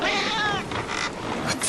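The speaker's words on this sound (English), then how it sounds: "There is a little talking cat in" A talking cat in a Hideo Kojima video game gives one loud, drawn-out meow up close, trailing into a softer, wavering cry.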